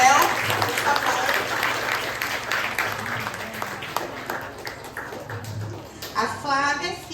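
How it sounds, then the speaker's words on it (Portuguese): Applause from an audience welcoming a community leader's daughter at a Campo Limpo memorial event, a broad wash of clapping running through the moment with voices chattering underneath. "A gente vai receber aqui com uma salva de palmas a filha dela, Flávia Raquel, por favor."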